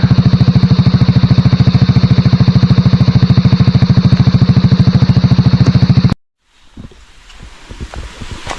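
A motorcycle engine running close up on a trail to a waterfall, a loud steady rapid thumping for six seconds that cuts off abruptly, leaving quiet outdoor rustling and wind.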